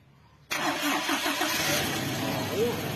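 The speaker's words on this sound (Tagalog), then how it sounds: "pa-start ko ulit itong makina" A dirt bike engine cranks and catches after a brief quiet moment, then settles into a steady, fairly close running idle with slight revving.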